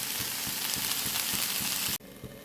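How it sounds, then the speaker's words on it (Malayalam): Green beans stir-fry in a pan for a Kerala upperi, with a loud, close, steady sizzle broken by quick rhythmic scraping strokes of stirring before it cuts off sharply. "നമ്മളതിനകത്തേക്ക് എടുത്തു വെച്ചിരിക്കുന്ന പയറും കൂടെ ഇട്ട് കൊടുക്കും എന്നിട്ട് ഇത് നല്ലതുപോലെ ചുറ്റി കൊടുക്കുക"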